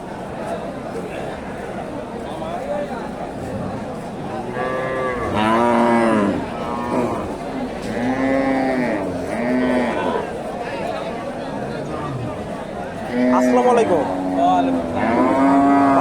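Several Friesian cows moo in long, low calls, some overlapping, close by at a cattle market in Bogura, Bangladesh, with other livestock and a murmur of people in the background.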